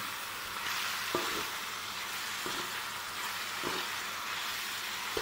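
Spices and tinde frying in a handi pot over a low flame: a steady, close sizzle with a hissy crackle, broken by a soft stirring clank about every second.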